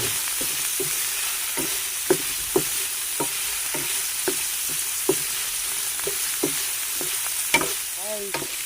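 Pork sautéing in a pan for ginataang langka with shrimp, a steady sizzle of frying with regular scraping strokes of a utensil stirring the meat, close and alone without talk.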